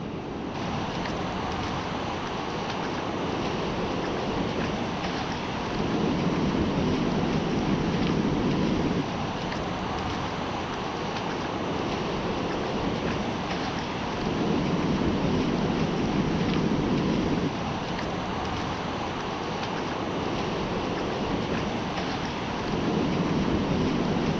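Pacific surf rolls in at Long Beach, Washington, a steady, wind-blown rush that swells into louder breaking waves roughly every eight to nine seconds, with no voices.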